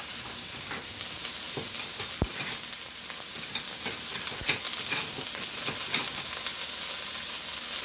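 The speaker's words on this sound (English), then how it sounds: "we got our ground beef in the pot. We're gonna let that brown up" A pound of ground beef browns in a pot for cheesy nachos, giving off a steady, close sizzle and crackle. It runs throughout with occasional spatula scrapes and knocks, and no one speaks.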